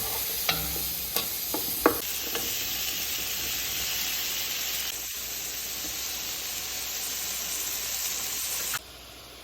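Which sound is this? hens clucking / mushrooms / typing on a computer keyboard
mushrooms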